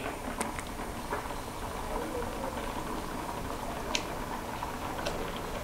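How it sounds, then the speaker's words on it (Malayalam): Kerala pachadi bubbles in a pot on the stove, a continuous dense boil with faint ticking pops scattered through it, close and steady. "ഇപ്പോൾ തിളച്ച് വരുന്നുണ്ട്"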